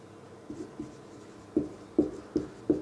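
Chalk taps and strokes on a board during a classroom lesson, with several short, distinct knocks at an uneven rhythm, close and fairly faint.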